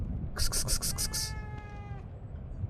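A single sustained cat meow rises and fades in The Evil Within 2, heard close over low ambient game noise, with a brief burst of clicking ticks just before it.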